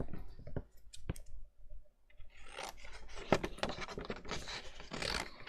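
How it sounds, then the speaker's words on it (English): Scissors fussy cutting around a stamped paper image: a few sharp isolated snips and clicks at first, then a denser run of close rasping cuts and paper rustle, quiet and close with no talking. "let's fussy cut this out"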